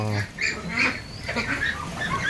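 Ducks on a duck farm give a close, throaty burst of quacking at the start, followed by a busy mix of calls and farmyard noise.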